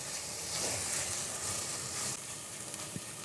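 Steady, hissing sizzle of onions frying in a pan with three or four cloves and cinnamon, cooked for black pepper chicken. A bright, continuous crackle runs close up, with a slight drop in intensity partway through.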